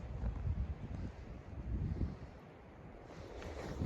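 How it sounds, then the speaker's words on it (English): Wind blows steadily outdoors during a snowstorm, a low buffeting rumble across the microphone that gusts and eases without pause, with no voices. "the wind was blowing"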